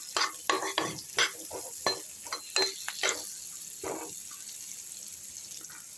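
Fish and chopped ash gourd being stir-fried in a pan for a Bengali village-style curry, with a spatula scraping and clattering in irregular strokes over a soft sizzle, busiest in the first few seconds and then easing off.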